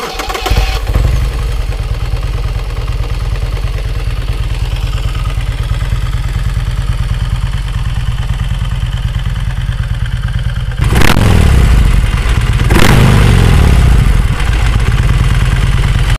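An ARCH American performance cruiser motorcycle idles with a deep, loud, heavily pulsing thump, then its engine revs up sharply twice near the end with clattering mechanical noise, close and alone.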